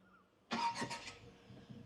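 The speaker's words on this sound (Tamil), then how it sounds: "ஸோ வண்டி ஸ்டார்ட் பண்ணுவோமா?" A Tata Punch Adventure compact SUV engine starts with a short crank burst that settles quickly into a soft idle, recorded from inside the cabin, brief and fairly quiet.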